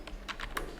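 A few quick keystrokes tapped on a computer keyboard, close and soft, spaced unevenly over less than a second with no voices.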